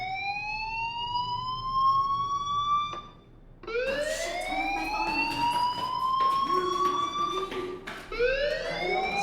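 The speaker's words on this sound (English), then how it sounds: "Hey, do you hear that fire alarm?" A school fire alarm in the video game Life is Strange wails in long rising sweeps, pausing once and then resuming, loud and continuous with clattering noises mixed in.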